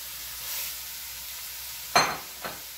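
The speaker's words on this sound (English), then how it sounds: "I'm going to brown our ground beef." Fatty ground beef browns in a pan with a faint steady sizzle, broken by two quick scraping stirs near the end.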